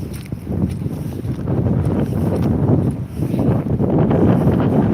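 Strong wind gusts buffet the microphone on Withernsea promenade, a loud, rough rumble that surges and eases without pause.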